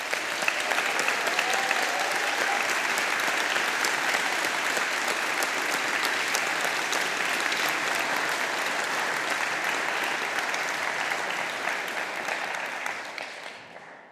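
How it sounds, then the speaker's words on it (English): A large audience at a 2021 university graduation ceremony gives the graduating class a sustained round of clapping, dense and even throughout, fading out in the final seconds. "rousing, collective round of applause"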